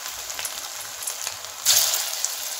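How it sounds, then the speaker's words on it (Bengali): Prawn pakoras frying in hot oil in a wok give a steady close hiss of bubbling oil, rising to a louder burst of sizzling partway through as more batter drops in. "এবার আমি পকোড়া ভাজবো।"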